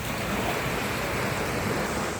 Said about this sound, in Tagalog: Yung dagat po, yung katabing dagat na nilalakaran namin